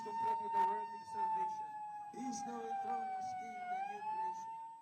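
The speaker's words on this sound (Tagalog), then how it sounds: "nang biglang tumunog ang sirena sa loob ng KOJC Religious Compound" A siren wails steadily inside a religious compound, its rising and falling tone loud and continuous over a low rumble, with voices talking faintly beneath it.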